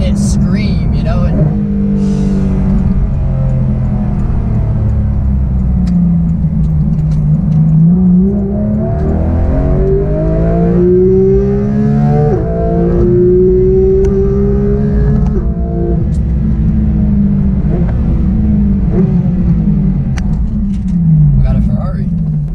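Held at high RPM, the 2019 Porsche GT3 RS engine wails loudly from inside the car, pitch sweeping up and down through repeated gear changes and throttle blips, while someone talks over the steady roar.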